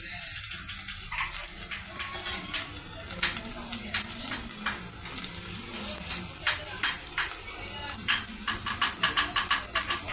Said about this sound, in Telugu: పెద్దలపాయ, పచ్చిమిర్చి, అల్లం చిన్నులపాయ పేస్టు ఆయిల్లో ఫ్రై చేస్తున్నామండి